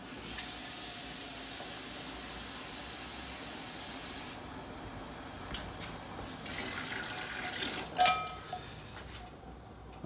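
Water pours into a pressure canner to top it up while tomato sauce is being canned. A steady rushing hiss runs for about four seconds, then gives way to quieter splashes and clinks, with no voices.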